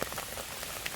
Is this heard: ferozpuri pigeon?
no